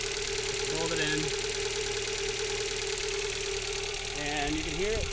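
Engine running after its pulley belt was replaced, a steady mid-pitched hum with a light rhythmic knock, with a voice briefly speaking over it.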